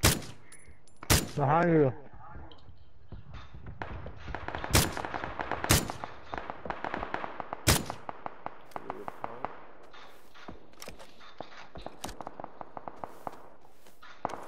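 Gunfire in the battle royale game PUBG, a few sharp loud shots and a scattering of fainter distant pops, with players talking over it.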